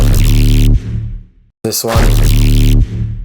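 A layered tearout dubstep bass hit, built from sub, bass, tonal and transient layers, plays twice. Each is a loud, thick, distorted synth blast, and a short gap with a brief transient comes between them.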